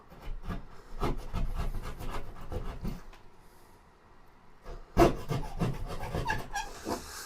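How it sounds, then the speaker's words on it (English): A steak knife saws through sheetrock during a home wall repair, making rhythmic scraping and rasping strokes. The strokes pause briefly, then resume with a sharper burst, close and moderately loud. "don't let your wife know you're using your steak knife to cut sheetrock"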